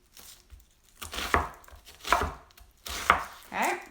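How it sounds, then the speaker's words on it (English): A knife chops an onion on a cutting board in four distinct, evenly spaced strokes, each a crisp close thud with a brief crunch, and short quiet gaps between them. "And then I'm gonna chop it up."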